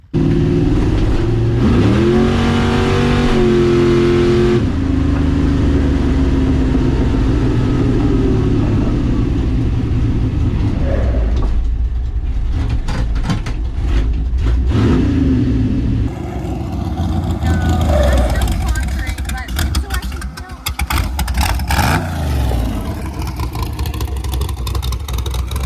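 Volvo with a swapped 383 stroker V8 on a drag strip pass, a loud sustained engine roar climbing through gears and then fading into rumble and wind, with people talking over it.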